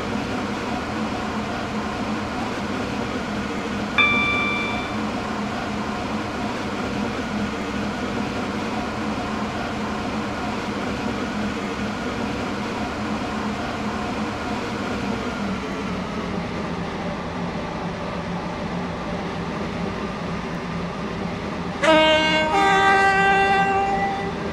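Interior of a passenger train running toward Newry, with a steady low rumble of wheels and carriage throughout, a brief tonal chime early on and a louder tonal burst near the end, with no talk.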